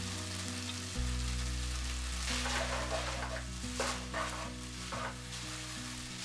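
Rice vermicelli and scrambled egg stir-fried in a little oil for Singapore-style noodles, a close, steady sizzle with scraping stirs and bursts of crackling, alone with no talk.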